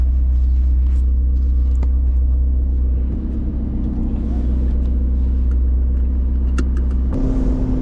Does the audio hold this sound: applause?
no